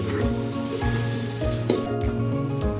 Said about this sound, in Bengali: পোলার চালটা সুন্দর করে ভাজতে হবে